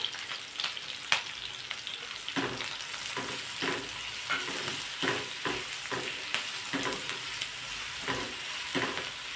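A paste of green chili, garlic and ginger stir-fries in hot oil, giving a steady close sizzle broken by scraping stirs from a spoon in the pan throughout.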